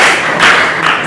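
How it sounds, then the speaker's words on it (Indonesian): Classmates in a ninth-grade classroom clap for a student named Fadli, a short, dense burst of applause that swells briefly and fades within about a second. "tepuk tangan dong buat Fadli"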